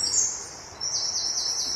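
Birds sing in woodland during a wild garlic foraging walk near Musselburgh, bright high chirping phrases repeating close by for the whole moment, with faint road traffic far in the background.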